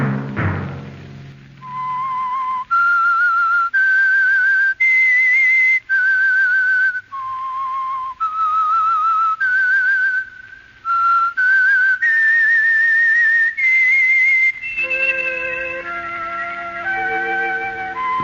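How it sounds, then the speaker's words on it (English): Whistled theme signal of The Whistler radio drama, a lone melodic whistle of sustained held notes rising and falling in short phrases, loud and clear, ending as music joins underneath. "Let that whistle be your signal for the Whistler, each Sunday night at the same time"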